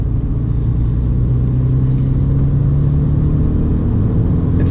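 A 2012 Volkswagen Golf GTI 35 Edition with 235 horsepower on the move, its engine a steady, loud, low rumbling drone heard from the cabin without interruption.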